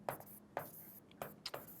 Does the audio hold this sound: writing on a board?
yes